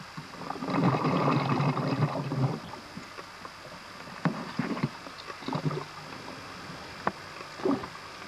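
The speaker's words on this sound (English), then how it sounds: "The sounds you're hearing there are the divers below that's doing the filming." Scuba divers breathing below the surface during a deep cave dive send up gurgling bubble bursts and hollow regulator exhales, a sustained rush followed by intermittent bubbling pulses, moderately near and without talk.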